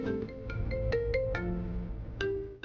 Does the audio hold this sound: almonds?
no